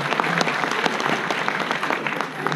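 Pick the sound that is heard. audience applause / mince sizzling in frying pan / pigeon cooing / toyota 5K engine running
audience applause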